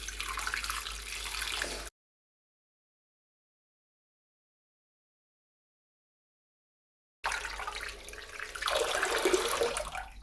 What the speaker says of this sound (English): And then I'm gonna just use some cold water to rinse her hair.